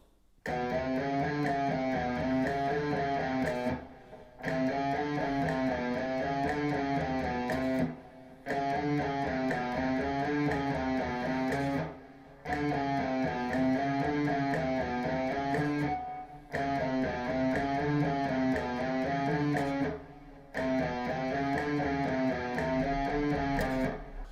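Steady, rapid alternate-picked guitar notes played to a metronome repeat in loops of about four seconds each, separated by brief pauses, with no voices present.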